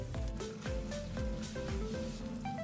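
A tortilla frying in oil in a pan gives off a steady sizzle, with faint crackles and soft scraping in the background.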